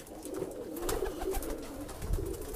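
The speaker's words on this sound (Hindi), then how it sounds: "कल्दुमे कबूतरों का" Kalduma pigeons, a pair kept for sale in Bhopal, coo in low throaty rolling bursts, close by, with a few repeated calls over a faint background rustle.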